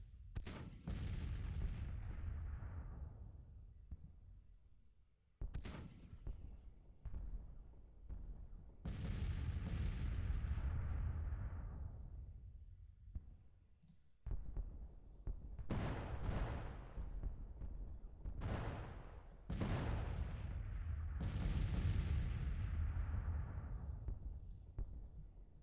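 Distant cannon fire from Civil War artillery in the Grand Tactician strategy game booms out in separate heavy blasts, each rolling off in a long fading rumble, several shots spaced a few seconds apart, with no voices.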